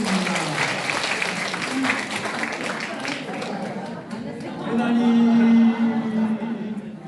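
An audience at a National Assembly candidates' policy debate held in a church in Seoul applauds densely for several seconds, then the clapping thins as someone speaks over lingering hand claps and murmuring.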